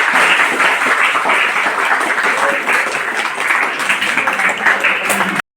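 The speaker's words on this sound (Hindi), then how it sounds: "विशेष ताली, विशेष ताली।" Loud, close audience clapping at an Independence Day celebration, a dense continuous burst that keeps up at full strength and then cuts off abruptly.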